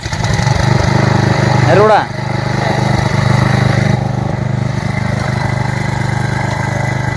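A single chain cultivator engine starts up and runs, its loud, steady mechanical drone continuing throughout after a brief shift in pitch, with people talking over it.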